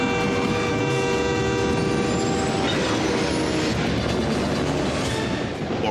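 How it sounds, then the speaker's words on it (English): A speeding atomic train roars past in a movie trailer, with a sustained horn blaring over loud, continuous rumbling and rail noise that fills the whole stretch without talking. "The atomic train is gaining speed."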